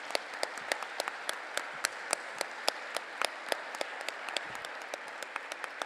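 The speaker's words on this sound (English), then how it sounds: "As you can see the applause around the Congress here" A sparse audience at a trade union congress claps steadily, individual claps distinct and moderately close, with no talking.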